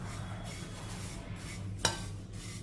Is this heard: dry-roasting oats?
yes